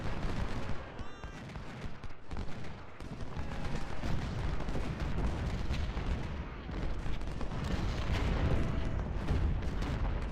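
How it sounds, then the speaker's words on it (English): Massed musket volleys crackle across a Civil War battlefield in Ultimate General: Civil War, a dense continuous roar of gunfire and booms with a faint voice beneath. "Everybody has a volley ready to fire too."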